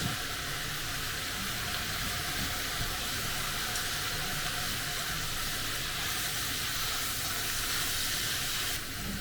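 Vegetables and noodles for yakisoba, seasoned with sake and salt, sizzle and fry in a pan in a steady, even crackle that runs throughout without any talking.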